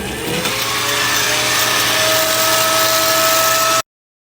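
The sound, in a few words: antique hairdryer running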